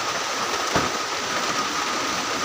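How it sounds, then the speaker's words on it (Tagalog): Rain falls steadily in the rural Philippine countryside, a dense even hiss with a brief faint thump partway through. "Umuulan."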